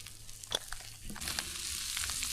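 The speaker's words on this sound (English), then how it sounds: "better get back to the bloody cooking them onions and sausages" Onions and sausages fry steadily in a pan at an outdoor boat ramp, with a soft continuous sizzle, quiet and close, and a few light clinks of stirring.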